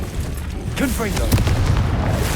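A Confringo spell explodes in the Hogwarts Legacy video game, giving a loud booming blast with rumbling crackle. Shouted voices cut in over the explosion.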